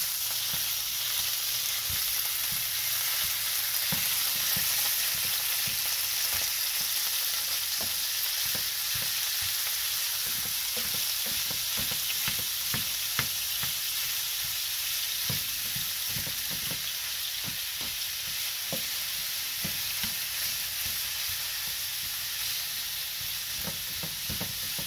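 Ground beef fries in avocado oil in a pan while a utensil stirs and breaks it apart, a steady close sizzle over many minutes dotted with frequent scraping and tapping, no voices.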